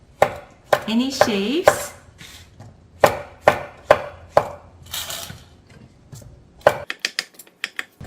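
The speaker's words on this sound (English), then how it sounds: "we have all this leftover mushrooms. Let's use it. Let's cut" Leftover king oyster mushrooms being cut on a board, a series of crisp, close knife chops in irregular bursts, with a brief spoken remark near the start.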